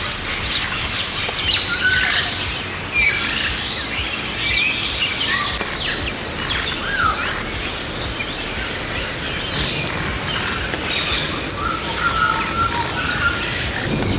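Birds call steadily with scattered high chirps and squeals over a continuous outdoor hiss, with no one speaking.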